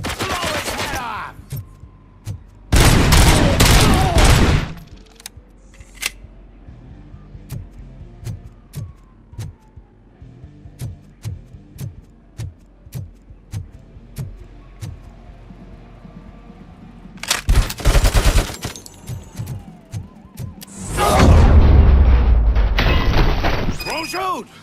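Gunfire in RoboCop Rogue City: two loud, sustained bursts of shooting early and late, with scattered sharp single shots and clatter between them, and shouting voices around the bursts.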